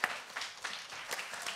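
A studio audience claps for a guest on an Ivorian talk show, scattered hand claps in a short uneven burst, close and moderately loud.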